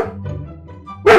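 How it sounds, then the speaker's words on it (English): A dog gives a few short barks and yips close by, a sharp loud bark bursting out at the end after softer ones. "My vicious dog."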